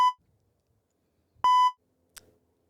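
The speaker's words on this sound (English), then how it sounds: "I'm going to put a beep somewhere." Two sharp censor beeps, a short tone then a longer one after a pause, loud and clean against near silence, followed by a faint brief click.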